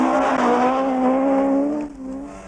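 An Audi rally car on a 1970s rally roars past with a loud, steady engine drone that sags in pitch and fades as it moves away.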